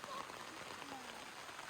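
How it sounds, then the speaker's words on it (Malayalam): Heavy rain falls steadily by a riverside resort, a dense continuous patter on surfaces, faint and unbroken throughout. "നല്ല മഴ ഉണ്ട്."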